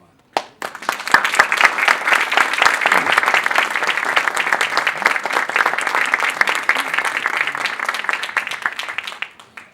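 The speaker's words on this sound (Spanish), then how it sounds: "el aplauso es para mí." Audience applause at a Spanish-language book presentation, starting abruptly and holding as a dense, close, loud clatter of many clapping hands for about nine seconds before cutting off, with no voices over it.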